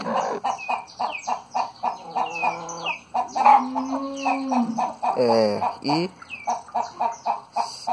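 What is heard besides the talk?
hens clucking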